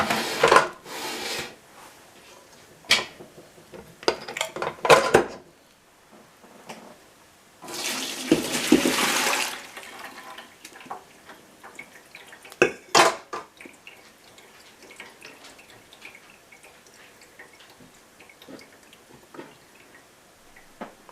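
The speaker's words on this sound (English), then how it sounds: "I like to save my buttermilk, so I'm gonna strain it out." Buttermilk from freshly churned homemade butter strained off into a container, heard as intermittent close splashing, trickling and pouring with scattered knocks and clinks of kitchenware, including one longer steady pour, without any talk.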